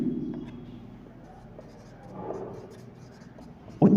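A pen writes out a physics solution on paper in soft, scratchy strokes that come and go. Faint background noise sits underneath, with a louder bump at the very end.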